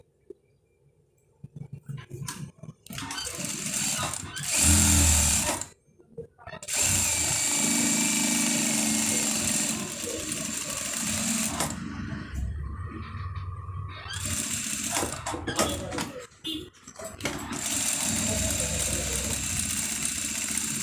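Sewing machine stitching the side pocket of a panjabi, running in loud mechanical bursts broken by short pauses, alone with no talk.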